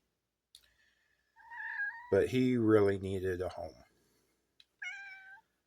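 A cat meows a few times, short mews at first, then one long drawn-out wail and a final shorter meow, close by with quiet gaps between. A person speaks briefly.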